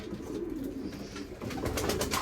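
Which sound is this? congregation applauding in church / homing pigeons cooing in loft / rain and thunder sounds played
homing pigeons cooing in loft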